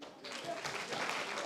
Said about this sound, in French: Si vous êtes d'accord,